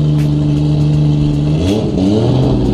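Car engine pulling hard on a road test drive after a transmission mount repair, a loud close rumble rising in pitch through a gear change with a brief dip, then climbing again.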